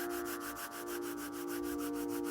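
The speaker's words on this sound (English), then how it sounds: "Rub your palms together to create a warmth." Palms rubbed briskly together in quick, even back-and-forth strokes, soft and close, over a steady sustained musical drone.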